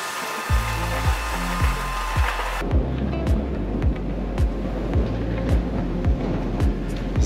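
Tunnel boring machine cutting head working underground, a heavy rhythmic mechanical clanking repeating roughly every half second over a constant low rumble and hiss.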